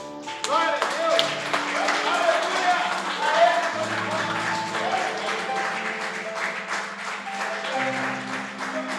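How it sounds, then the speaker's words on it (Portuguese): Church congregation applauding for Jesus during a worship service, a sustained wash of clapping over nine seconds with a steady sung or droning musical tone underneath and voices mixed in. "vamos dar uma salva de palmas para Jesus"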